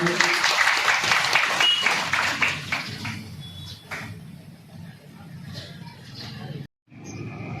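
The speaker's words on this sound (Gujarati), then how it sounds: "જોરદાર તાળીથી વધાવજો" Crowd applause welcoming a guest at an outdoor religious festival in Thangadh, with a burst of clapping that thins and fades while a voice talks over a PA.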